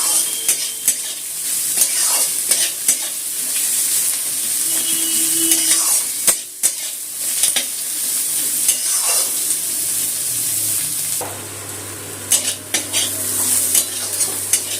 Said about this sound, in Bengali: কালো জিরে, কাঁচা লঙ্কা, রসুন, পেঁয়াজটা একটু ভাজা ভাজা করে নেবো তেলের মধ্যে।